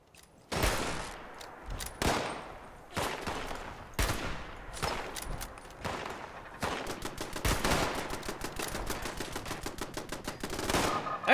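Automated turrets in Fallout 76 fire in loud, close bursts of gunfire, several separate volleys at first, then a long rapid rattling stream of shots.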